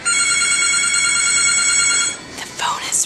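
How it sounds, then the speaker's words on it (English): A telephone rings with a steady electronic tone lasting about two seconds, loud and close, then cuts off as a voice begins speaking. "The phone is ringing."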